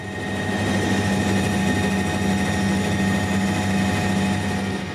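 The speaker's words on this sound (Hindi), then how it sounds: "आर्मी एविएशन के ध्रुव और रुद्र हेलीकॉप्टर का विशेष फ्लाई पास्ट भी हुआ।" Army Aviation Dhruv and Rudra helicopters making a flypast at an Army Day parade, a steady loud rotor and engine drone with a low throbbing hum that holds evenly throughout, no voices.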